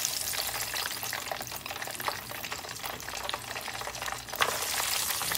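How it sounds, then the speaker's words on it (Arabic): Potatoes frying in hot oil give a dense, steady sizzle, close and fairly loud, holding level throughout with no voices. "أول شيء أقلي البطاطس في الزيت"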